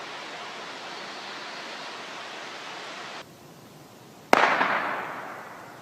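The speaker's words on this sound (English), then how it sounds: "That was a gunshot. Somebody just shot over into the woods." A steady rushing background in the woods drops away, then a single sharp, loud gunshot cracks out and its echo rolls and fades for over a second.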